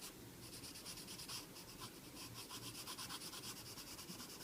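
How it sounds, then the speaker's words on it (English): Rose Art colored pencil shading lightly on paper with the side of the lead, a soft continuous scratchy rubbing with steady back-and-forth strokes, close and faint, with no talking. "I'm using more the side of my pencil here."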